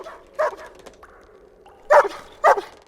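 A dog barks three times, sharp and close: a single bark, a pause, then two quick barks in succession, with a few faint yips between.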